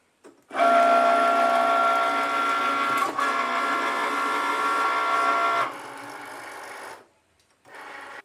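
A Cricut cutting machine cuts leather luggage tags, giving a loud steady mechanical whir with tonal motor hum and a brief click midway. It stops abruptly, fades into a softer tail, and is followed by a short burst of motor noise.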